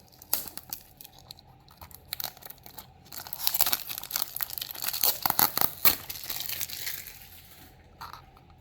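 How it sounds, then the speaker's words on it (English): A Tomica Premium die-cast car box, a 1:62 Subaru WRX STI NBR Challenge, being unboxed up close, with crinkling, tearing and rustling of cardboard and plastic packaging that grows busier midway, then eases off. "so let's unbox and see how it looks"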